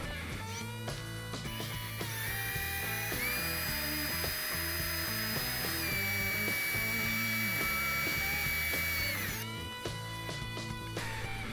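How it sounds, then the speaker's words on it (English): Power drill boring holes with a 5/32 bit during a car door panel and inside latch repair, a sustained whining drill tone that rises and holds for several seconds between shorter bursts, fairly quiet. "I'm going to be using a 5/32 bit to drill my holes"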